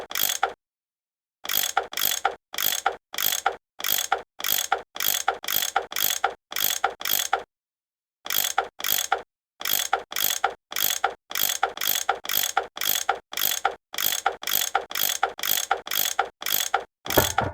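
In the Nancy Drew game Last Train to Blue Moon Canyon, a tool unscrews bolts with repeated loud ratcheting clicks in quick rhythmic bursts, separated by a couple of brief silent pauses.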